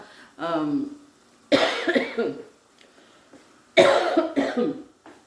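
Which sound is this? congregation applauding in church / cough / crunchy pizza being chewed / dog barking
cough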